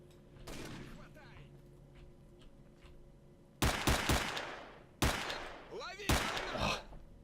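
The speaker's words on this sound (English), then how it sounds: "I'm in crossfire. This is bad." Gunfire crossfire in the shooter game S.T.A.L.K.E.R.: Shadow of Chernobyl, with a few sharp nearby shots and short bursts ringing out over a low ambient hum, loud and close, with a voice talking faintly between them.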